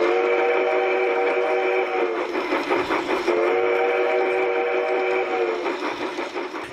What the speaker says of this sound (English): manufactured by Piko with some fun built-in steam train sounds